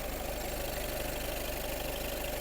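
A 2018 Volkswagen Passat B8 Highline 4Motion engine idles steadily up close, a constant even drone with a faint rhythmic pulse and no talking.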